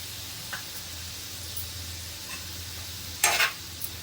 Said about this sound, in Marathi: चांगलं मिक्स करून घेते